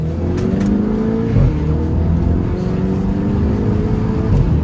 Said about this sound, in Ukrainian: Класний непримхливий двигун.